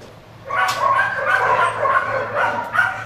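At a dog hotel, a dog gives a series of short yips and whimpering barks over faint low background hum, close by and fairly loud, with no speech.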